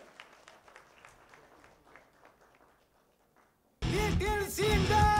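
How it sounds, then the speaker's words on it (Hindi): Scattered, thin clapping from an audience at a children's TV launch event fades out over a few seconds, then loud music and amplified sound abruptly cut in and dominate. "Come on, let's give a big round of applause."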